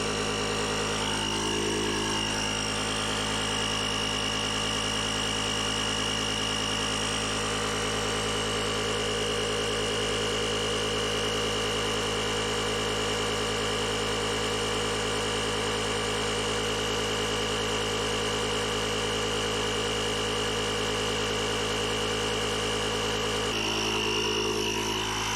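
Portable jump starter with built-in air compressor inflating a car tyre from 31 to 40 psi, a loud continuous motorized drone with steady vibration, close and unbroken throughout.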